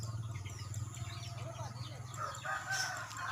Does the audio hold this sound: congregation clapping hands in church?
no